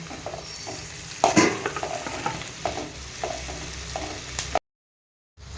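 Onions and curry leaves sizzle in a pan as a spoon stirs them, with scraping strokes over a steady frying hiss that cuts off abruptly into silence near the end.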